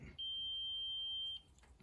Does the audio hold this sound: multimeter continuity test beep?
yes